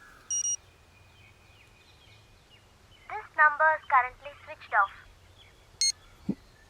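Short electronic beeps sound at the start and end, with a quick burst of phone dialing tones in between, all fairly quiet.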